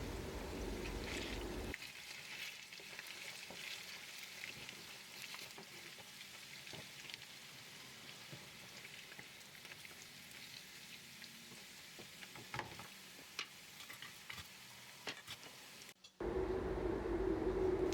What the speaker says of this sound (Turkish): Evet patateslerim kızarmaya başladı. Üzerlerine tuz atıyorum ve karıştırıyorum.